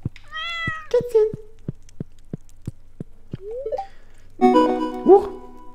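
A cat meows several times in Stardew Valley, short close meows spaced between rhythmic game clicks and ticks, with a bit of speech near the end.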